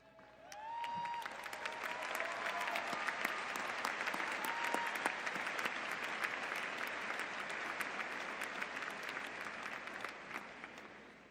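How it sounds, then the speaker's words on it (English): Sustained audience applause at a university spring commencement ceremony in a large hall, building quickly and holding steady for several seconds as honor society students stand, with a few faint tones and voices early on before tapering at the end. "would you please stand so that we can applaud your accomplishments?"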